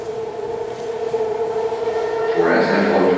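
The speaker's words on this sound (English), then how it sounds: "San Francisco Millbrae train now approaching platform 2." A BART train rumbles and whines steadily into Ashby station platform, growing slightly louder with a rising metallic screech toward the end, under faint background voices.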